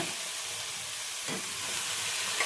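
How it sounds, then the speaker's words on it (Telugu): Washed leafy greens sizzle and hiss steadily in a hot pan for a curry, a close, continuous frying noise with no talking. "1 నిమిషం వేగింది. ఇప్పుడు మనము ఆకుకూర వేసేసుకున్నాం."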